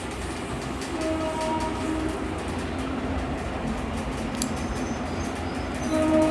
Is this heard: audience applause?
no